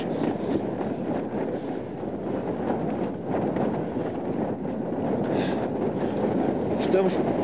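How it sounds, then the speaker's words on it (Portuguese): Strong stormy wind roaring at camp 4 on a mountain, with gusts passing 150 km per hour, a loud, continuous and unbroken rush close to the microphone. "o vento ultrapassou os 150 km por hora"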